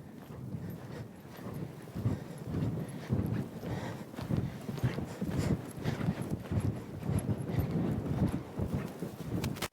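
Horse hooves cantering over ground poles in a riding lesson, a steady, rhythmic clip-clop of hoofbeats that repeats close by for the whole stretch, with no talk.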